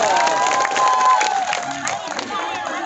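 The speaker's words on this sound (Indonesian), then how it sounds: "Tepuk tangan untuk suka marah." An audience at a religious poetry gathering in Sukamara, Central Kalimantan cheers and claps, a lively crowd roar with shouts and whoops in the foreground.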